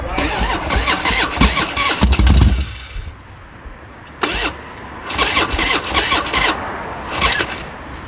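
Harley-Davidson motorcycle engine cranking and firing in bursts, with loud rough rumbles separated by brief quieter gaps as it tries to catch and run.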